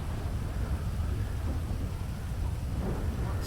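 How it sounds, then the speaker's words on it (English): A thunderstorm rumbles with steady rain and low thunder, a constant broadband wash that holds at an even level throughout with no voices. "Want the storm to go away."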